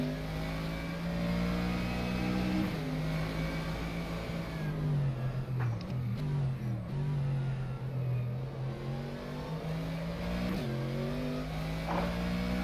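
Mercedes GT3 race car engine in the rFactor 2 sim at Suzuka, a loud continuous engine drone rising and falling with gear changes and throttle lifts, heard alone throughout.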